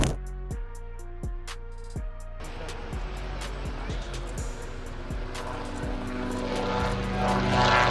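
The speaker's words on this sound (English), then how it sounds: "This Italian twin-engine turboprop, quirky, wide-winged," A Piaggio P166, an Italian twin-engine turboprop airplane, gives a few sharp clicks before its propeller engines settle into a dense droning roar that swells louder toward the end.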